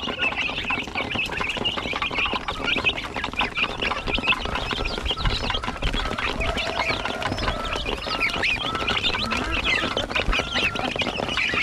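Young chicks on a poultry farm peep continuously in a dense, high chirping chorus mixed with clucking from nearby fowl, steady and close throughout with no speech.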